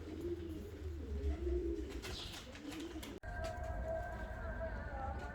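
Pigeons, show and costume breeds such as a Jumbo Boy Mohican pair, coo in low rolling phrases close by under a steady murmur, with someone talking over them.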